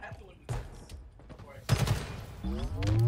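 Bursts of Halo gunfire pop in a competitive college match, a few sharp shots followed by a denser volley, with a commentator talking over them.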